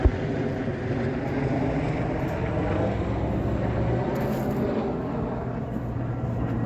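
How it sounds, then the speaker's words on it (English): A steady low drone of a helicopter passing overhead at a distance, a continuous rumbling hum without speech. "Helicopter going by."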